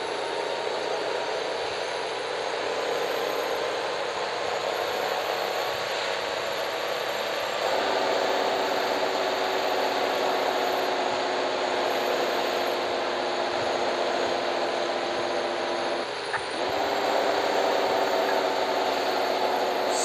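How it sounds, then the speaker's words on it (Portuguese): A Volvo FH 500 truck's engine drones loudly and continuously with the engine brake engaged on a steep downhill, and the tone steps into a deeper, heavier roar partway through. "Acionar logo o freio motor aqui pra ficar esperto, cara"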